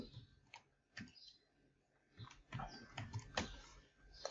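Keys tapped on a computer keyboard while entering a search term, irregular clicks in short bursts with pauses, fairly faint and close, with a few louder strokes near the end.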